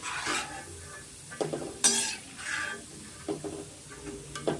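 Roasted gram (putani) frying in a pan, with scattered crackling sizzle broken by repeated sharp scrapes and clinks of a spoon stirring against the metal, close and fairly quiet.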